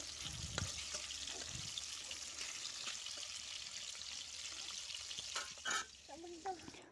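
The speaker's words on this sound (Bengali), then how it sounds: "তো মাছগুলি একটা একটা করে সব ভেজে নিব।" Fish fries in a hot wok, with a soft, steady sizzle that runs throughout at low level, broken by a few brief clinks and stirring knocks near the end.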